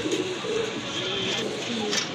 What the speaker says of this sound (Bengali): দেখেন কত কোয়ালিটি ফুল এক জোড়া কবুতর